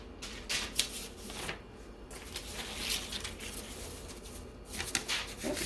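Sublimation paper being swapped and handled, giving soft close rustles, crinkles and papery shuffling in irregular bursts against a quiet room background.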